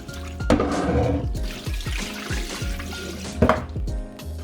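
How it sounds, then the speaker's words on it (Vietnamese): Water splashes and runs steadily while beef bones knock repeatedly against a pot as they are rinsed with hot water, close and fairly loud. "Rửa sơ với nước nóng cho sạch tạp chất dính bên ngoài."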